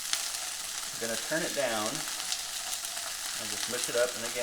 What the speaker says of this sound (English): But once it's starting to fry like this, I'm gonna turn it down